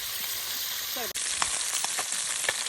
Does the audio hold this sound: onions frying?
yes